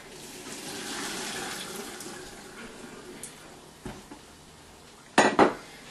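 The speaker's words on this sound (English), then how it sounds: "celery root that's been boiling for quite some time, strain it off" Boiled celery root is strained out of a pot in a kitchen: a soft rush of water fades through the first seconds, followed by a few scattered knocks and then a sharp double clatter of metal near the end.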